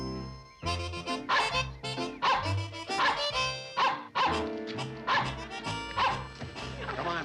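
A dog in the 1960s sitcom Petticoat Junction barks in a run of sharp yips, then whimpers and whines, close and loud throughout.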